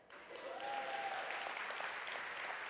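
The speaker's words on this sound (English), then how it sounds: "That's a round of applause." Faint applause from an audience at a diversity and inclusion summit keynote, a soft, even patter of clapping sounding somewhat distant, with a brief tonal whistle or call rising above it early on.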